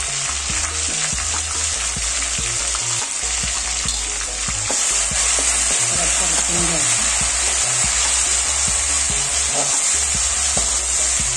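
Ginger-garlic paste and crushed chili paste sizzle and fry steadily in a pan over lowered heat with occasional stirring scrapes, loud and close throughout with no talking.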